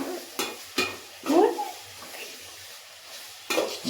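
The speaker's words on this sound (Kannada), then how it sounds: "ಚೆನ್ನಾಗಿ ಫ್ರೈ ಮಾಡು" Food frying in a pan at home, with a few separate scraping stirs and clanks over a quiet sizzle and pauses in between.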